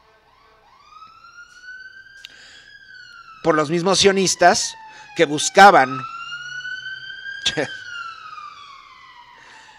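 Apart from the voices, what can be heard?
ambulance siren passing by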